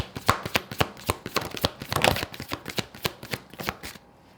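Tarot cards are shuffled by hand in a steady run of crisp, rhythmic riffles and taps, close up and fairly quiet, ending in a brief pause, with no voices.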